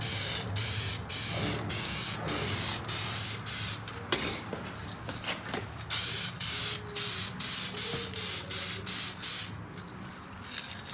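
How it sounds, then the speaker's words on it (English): An aerosol can of dye sprays a first light coat in short repeated bursts, a steady loud hiss broken by brief pauses, with no talking. "now we're going to go in with our first coat of the dye. You want to go with a light coat at first."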